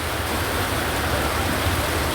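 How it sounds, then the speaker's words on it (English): Heavy pouring rain hisses as a dense, steady wash of noise, loud and unbroken, outside a container house with no other sounds. "It's pouring and we are waiting for a truck that will bring some material here."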